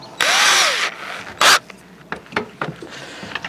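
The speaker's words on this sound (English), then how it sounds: "Drill bit's gone in now." A cheap power drill with a cobalt bit whirs loudly for under a second, stops, then gives a second short burst, followed by scattered clicks and knocks, during narrowboat wall panelling work.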